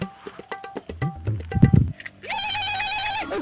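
A phone rings with a steady, electronic ringtone that starts partway through and continues to the end, following a series of scattered clattering and knocking sounds.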